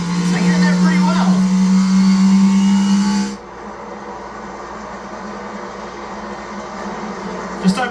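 NASCAR Cup Series car at speed during a playoff race, onboard engine droning loudly with a sharp drop in pitch and volume as it downshifts from fifth to third gear for turns 1 and 2, then a lower steady rumble.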